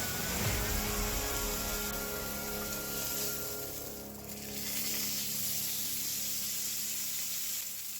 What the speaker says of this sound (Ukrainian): Починаємо смажити м'ясо